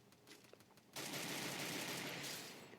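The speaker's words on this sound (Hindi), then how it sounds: "यहाँ पर आ रहे हैं गन शॉट्स, यानी कोई है यहाँ पर।" Gunfire in the Garena Free Fire battle royale game on the Bermuda map, a dense sustained volley of rapid shots starting abruptly and continuing steadily, without talk.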